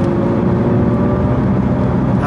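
A Noble M600 sports car with a 650 brake horsepower Yamaha engine accelerates, a loud, dense, sustained engine roar heard close up with no speech.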